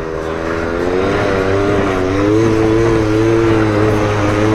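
Scooter engine idling steadily after being started, a close, loud continuous drone with a wavering tonal hum throughout, no voices.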